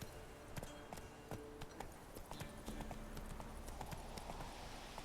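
Hooves of Roach, Geralt's horse in the video game The Witcher 3, clip-clop in a steady rapid gallop, close and crisp, with faint game ambience beneath and no talking.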